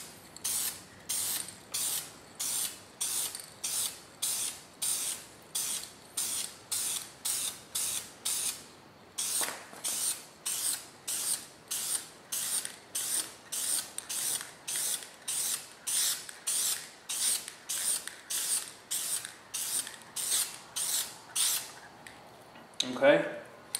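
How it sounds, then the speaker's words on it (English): Rapid, evenly spaced hissing bursts from an aerosol spray can lay light coats of paint on a plastic motorcycle windscreen, about thirty short sweeps in a steady rhythm, close and clear, with a brief pause midway. "we're going to go ahead and just sweep across, holding it about 6 inches away from the plastic,"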